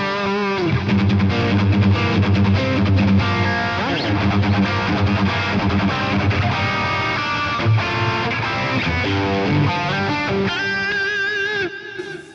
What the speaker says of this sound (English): a really good one for those kind of Marshall-y tones, and you can get this drive really cooking if you want.